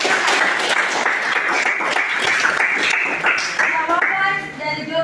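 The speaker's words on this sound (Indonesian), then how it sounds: "Oke, kita berikan aplaus." A class of students applauds together, dense steady clapping filling the room for several seconds before thinning out, with a voice speaking over the end.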